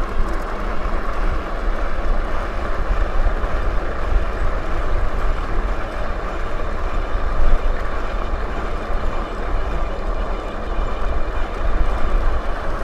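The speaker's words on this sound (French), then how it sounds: "Moteur se déclenche." A DUOTTS S26 dual-motor 26-inch electric fatbike with 1500 W motors and a 20Ah battery accelerates along a straight, giving a steady close rumble of motor and tyre noise mixed with wind.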